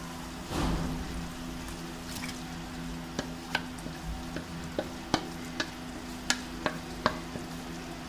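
Marinated mutton with masala fries in a pot for balti gosht, a soft sizzle under repeated sharp clicks and taps of a spoon stirring against the pan, close and fairly quiet.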